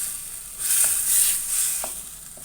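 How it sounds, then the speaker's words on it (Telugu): Tomato puree frying in a pan for an eggplant and chana dal curry, a steady soft sizzle with a few faint stirring taps, no voices. "టమాటా బాగా వేగి దగ్గర పడాలి"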